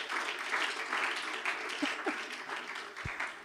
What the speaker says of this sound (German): Ein Applaus, oder, für Jesus?